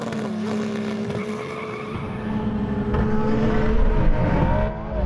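Cars revving and launching at a drag race start between a Lamborghini, a Nissan GT-R and a Xiaomi SU7 Ultra, loud and continuous engine roar that builds in intensity before easing off near the end.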